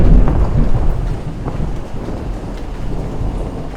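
A deep rumbling thunder clap in a storm, loud and close, rolling for a few seconds over a steady wash of rain and wind, no talk.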